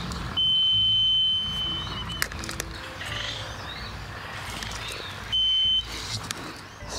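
A groundwater moisture meter on Lady Elliot Island sounds two steady electronic beeps when its probe meets water, each lasting under a second or so, separated by several seconds, over outdoor ambience with birds calling.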